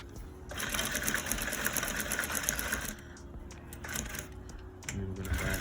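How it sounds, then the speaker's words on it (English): A sewing machine backstitches a welt pocket with a quick mechanical chatter. It runs in short close bursts, broken by brief pauses and light handling clicks. "And we're gonna backstitch right here."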